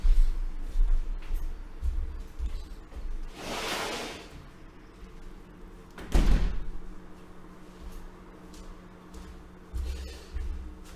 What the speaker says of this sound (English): Maybe I'll close the balcony door very quick